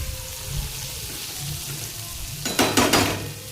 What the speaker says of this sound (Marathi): आता हे घेऊया असं हे करून वांगे मिक्स करूया याच्यामध्ये